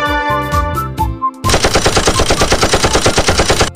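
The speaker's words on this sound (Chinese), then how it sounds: "来吧，让你尝尝加特林的威力。" A gatling gun firing in a video game, opening with a short musical jingle before a loud, rapid stream of evenly spaced shots that continues to the end.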